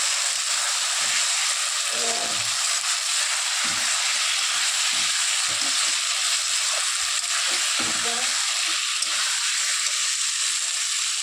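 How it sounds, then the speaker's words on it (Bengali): Spice paste (masala) fries in a pan with a loud, continuous hiss and sizzle, while faint low knocks and shuffles occasionally sound underneath. "মশলাটা কষে নিচ্ছি"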